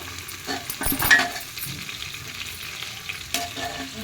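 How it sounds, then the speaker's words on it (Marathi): Chopped ginger being sautéed with carrots and green peas in a pan, giving a steady close sizzle with occasional scraping stir strokes and no voices. "मी चिरलेलं आलं हे दोन मिनिट परतून घेते"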